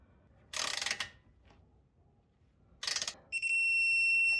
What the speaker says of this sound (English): we're going to torque the castle nut